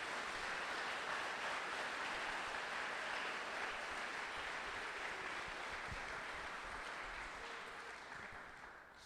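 Church congregation applauding during a service, a dense, sustained wash of clapping from many hands that fills the room evenly and fades slightly near the end.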